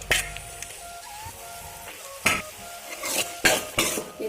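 Carrot halwa with milk and sugar being stirred in a pan with bay leaves, cashews, cloves and raisins, a soft sizzle under intermittent scraping and clinking of a spoon against the pan, close by.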